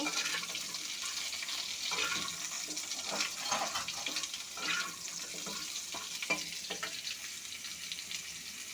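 Cut moringa drumstick pods fry in a pan for a sajna chorchori, a quiet, even sizzle with soft stirring scrapes throughout.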